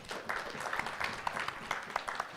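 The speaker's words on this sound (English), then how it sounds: "Can you clap for him?" A conference audience applauding a remote speaker at a national social protection dialogue, with soft, fairly distant clapping held at a low, even level for a couple of seconds.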